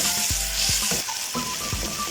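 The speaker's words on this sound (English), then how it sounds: "Now we are frying tomatoes." Tomatoes frying in a pan for a tandoori chicken masala, a steady close sizzle with a few sharp stirring scrapes spaced through it.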